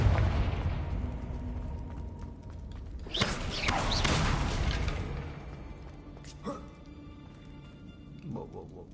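A Confringo blasting spell from Hogwarts Legacy sets off a loud burst about three seconds in and rumbles for a couple of seconds, then smaller cracks follow as the noise fades.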